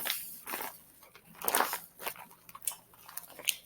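A handmade squishy toy shaped like pretzel chips is squeezed close up, giving soft crackling crunches in irregular bursts, quiet and alone.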